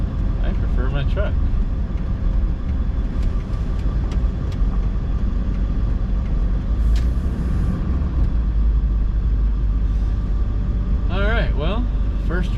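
A 7.3 Powerstroke diesel truck on the road, a continuous low engine rumble and road noise from inside the cab throughout, with someone talking over it and brief squeaky sounds near the end.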